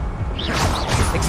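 Expelliarmus spell cast in the video game Hogwarts Legacy, a dense magical whoosh and crackling burst that swells over about a second amid busy game noise.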